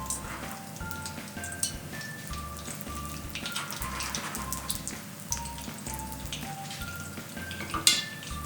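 Steady crackling sizzle with scattered sharp pops as food fries in a pan heated to about 200 degrees, close and fairly loud with no voices.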